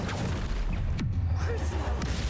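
Incendio and Accio spells cast in Hogwarts Legacy, sounding as quick whooshes and a sharp crash-like impact amid a busy, rumbling fight soundscape.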